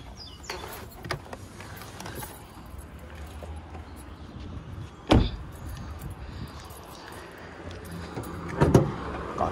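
Car door of a Fiat Cronos 1.8 automatic fitted for natural gas (GNV) opening, with keys jangling faintly and sharp door clunks at about five and nine seconds over low background noise.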